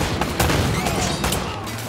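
Gunfire rattles in Uncharted: Drake's Fortune, a dense burst of shots blending into a loud, continuous barrage with booming impacts and no voices.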